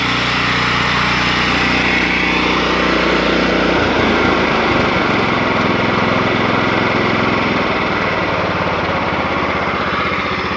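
A Scag 48 Commercial walk-behind mower's engine runs at full throttle, a loud, steady, close roar with a constant high whine and no talking.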